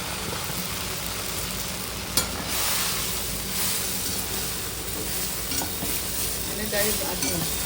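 Fried idli pieces being stirred in a pan, a continuous sizzle with scraping spoon strokes and occasional clinks, moderate and close, over a low steady background rumble.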